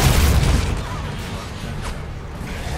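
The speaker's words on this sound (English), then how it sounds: "Oh, I'm throwing a grenade." A grenade goes off in the video game Gears of War Judgment, giving a loud, heavy boom at the start that fades into a lingering rumble of battle noise.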